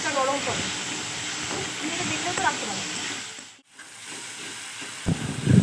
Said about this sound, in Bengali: মশলাটা কষাতে থাকবো।